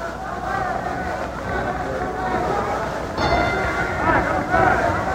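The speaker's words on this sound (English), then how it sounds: "There's the bell for round five." A boxing ring bell rings to open round five of a professional bout, sounding over a steady crowd murmur and a commentator's voice throughout.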